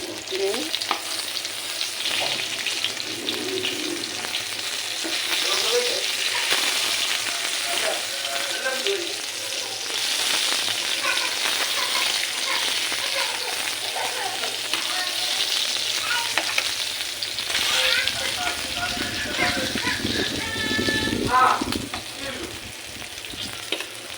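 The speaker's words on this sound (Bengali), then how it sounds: "মাছটা ভাজা হয়ে গেছে" Fish frying in a pan, a steady loud sizzle with stirring and scraping running throughout, no talk over it.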